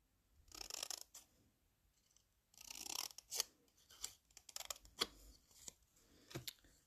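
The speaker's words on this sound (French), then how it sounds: "Ici, on va couper comme ça pour avoir un joli fanion." Scissors snipping through paper to shape a pennant for a gift box, several separate bursts of cutting strokes with short pauses between, close and clear, no talking.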